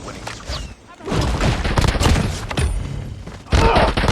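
Rapid bursts of TEC-9 submachine-gun fire in Call of Duty Mobile, loud and close, arriving in several clustered volleys with brief gaps and a heavier burst near the end, with a voice now and then underneath.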